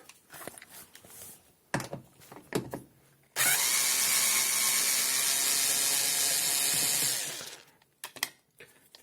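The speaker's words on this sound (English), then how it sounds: "So we'll grab our screwdriver." A power screwdriver removes small torx screws from a plate on a Bosch dishwasher, a steady whirring burst of about four seconds, close and fairly loud, framed by clicks and clatter of handling before and after.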